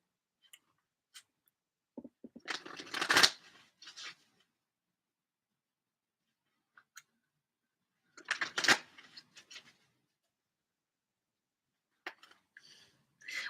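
Tarot cards from the Good Tarot deck being shuffled by hand: two short bursts of crisp riffling and papery slaps near the start and middle, with a lighter flutter at the end, close and quiet with silence between.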